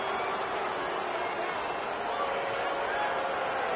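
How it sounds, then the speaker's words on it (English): Steady stadium crowd roar from College Football 26, a dense continuous wash of cheering and murmur that stays loud throughout, with game commentary talking over it. "there's all this crowd noise"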